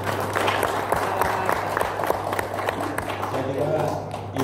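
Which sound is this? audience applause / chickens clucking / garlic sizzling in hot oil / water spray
audience applause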